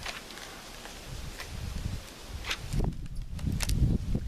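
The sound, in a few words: wind blowing outdoors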